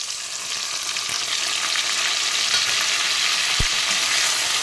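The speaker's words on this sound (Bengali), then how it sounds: "আবার আমি কিছুক্ষণ নেড়ে ছেড়ে ভেজে নেব" Tomato and ground spice paste fry in a pan with a steady, loud sizzle and stirring throughout, and one sharp clink of the utensil near the end.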